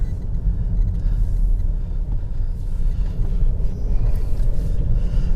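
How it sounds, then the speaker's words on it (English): Alfa Romeo Stelvio Quadrifoglio with a 510 horsepower 2.9 litre twin turbo V6 on the move: a continuous low, rumbling exhaust burble with road and wind noise, steady throughout with no talking. "There's a gorgeous burble coming from the back of the car."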